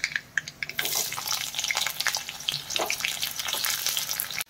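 Onion dropped into hot oil already tempered with mustard seeds bursts into a loud, close sizzle that keeps crackling and hissing steadily, with a few stirring scrapes.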